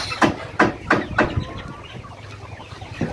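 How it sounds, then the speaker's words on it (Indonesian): Chickens on a farm cluck in a quick run of four sharp, close calls, then go quieter. One more cluck comes near the end over a low background hum. "sama yung mga manok."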